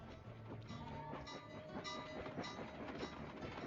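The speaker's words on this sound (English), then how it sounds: "These trains coming in every now and then." Trains rumble past in the video game Sly 2: Band of Thieves, a steady, loud rolling clatter with faint whistle-like tones, continuous and close throughout.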